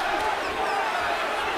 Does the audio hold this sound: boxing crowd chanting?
yes